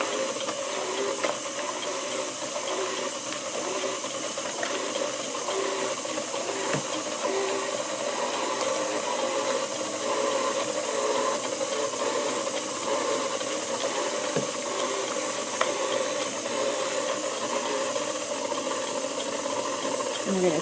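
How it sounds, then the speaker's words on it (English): A mixer runs steadily while blending soap with lavender essential oil for French milled soap, giving a constant whirring, hissing drone with a faint rattle and no pauses. "So now the soap is in the mixer, and we're going to turn it on."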